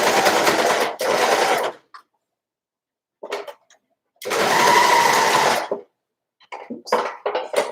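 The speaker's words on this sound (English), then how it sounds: "So I'm just going to overlock around the on top of that basting stitch." An overlocker stitching over a basting stitch on sweater fabric, running in loud bursts of rapid whirring separated by pauses, with brief handling clicks between runs.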